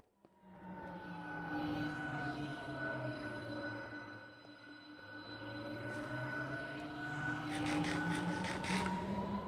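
A Shinkansen train runs through a tunnel in Minecraft with a soft, continuous mechanical hum and tonal drone that swells, dips and rises again, while faint game effects patter near the end.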